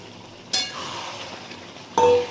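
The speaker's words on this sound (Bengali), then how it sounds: "আলুটার মধ্যে এবার আমি এই মাংসটা দিয়ে দিচ্ছি।" Meat tipped into a pan of boiled potatoes being fried, giving two sharp bursts of sizzling, one early and a louder one near the end, with a steady frying hiss between them.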